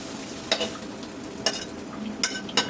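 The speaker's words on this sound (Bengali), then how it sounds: "লাল শাক ভাজি করবো, একটু রসুন দিয়ে দিলাম হালকা করে, একটু পেঁয়াজ কুচি দিয়ে দিলাম" Red amaranth greens stir-fried with garlic and chopped onion, giving a steady soft sizzle with several sharp stirring scrapes in a pan, close and moderately loud, no talk.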